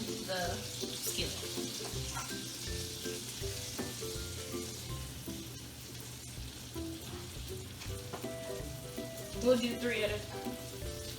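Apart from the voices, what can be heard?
grilled cheese roll-ups sizzling on a hot skillet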